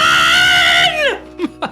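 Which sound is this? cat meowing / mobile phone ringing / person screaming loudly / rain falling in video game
person screaming loudly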